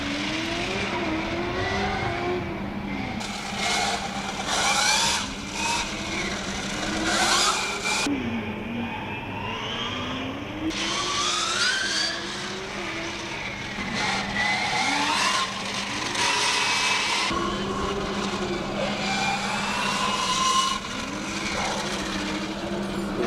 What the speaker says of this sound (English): You can hear the car from Prague take the green flag behind us.